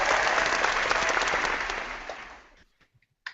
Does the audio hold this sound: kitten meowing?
no